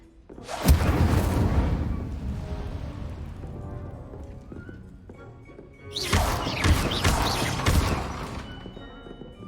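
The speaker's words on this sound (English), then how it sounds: "Incendio! Setting things ablaze is certainly the smartest." The Incendio fire spell in the Hogwarts Legacy video game sets things ablaze in two loud, sustained roaring blasts full of crackling bursts, separated by a quieter fading stretch.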